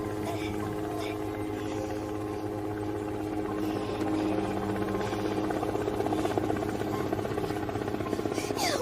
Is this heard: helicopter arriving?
yes